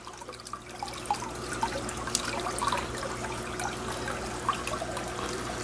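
Water babbles and trickles through a filter in a soft, continuous flow, with small irregular splashes and drips over a low steady hum.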